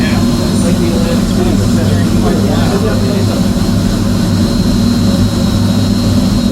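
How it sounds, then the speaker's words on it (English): Blower motor of the world's largest theatre pipe organ: a loud, constant low roar with a steady hum, close and unbroken throughout. "Oh, this is the other blower."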